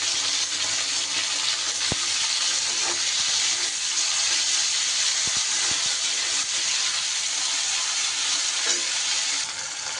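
Chopped tomato sizzles with onions in a pan for a fish curry with drumsticks, giving a loud, continuous frying hiss broken by a few sharp scrapes as the mixture is stirred.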